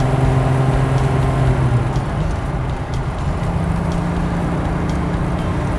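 A 1932 Maybach rolls along with a continuous low engine hum and road rumble, the tone dipping and shifting as it changes gears, heard from inside the car.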